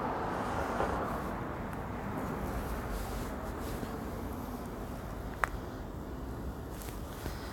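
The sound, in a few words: road traffic passing on a main road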